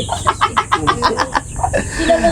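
Chickens cluck in a quick rhythmic series of close, fairly loud calls, with farmyard background around them.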